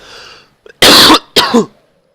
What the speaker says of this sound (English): I had a cough in my throat